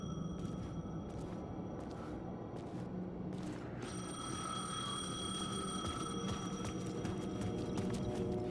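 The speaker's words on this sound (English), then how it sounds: "phone was ringing." A telephone rings in Alan Wake 2, repeated trilling rings with a steady electronic tone layered over a dense, noisy game soundscape at moderate loudness.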